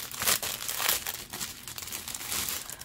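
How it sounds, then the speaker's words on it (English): Plastic packaging for a set of drill bits, bought from AliExpress, crinkles and rustles in bursts as it is opened by hand, close up and fairly loud, with no talking. "Sorry for the crinkling."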